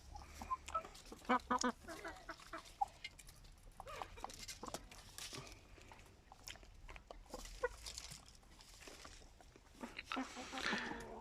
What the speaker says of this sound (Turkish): yine bir kavga başlamış tavukla horoz arasında